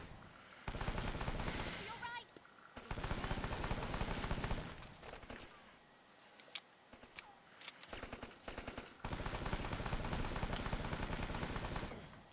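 Rapid automatic gunfire in the Rambo video game comes in long, loud sustained bursts separated by short quieter gaps, with sharp repeated cracks and some scattered single shots in between.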